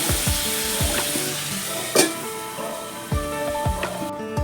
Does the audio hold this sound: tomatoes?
yes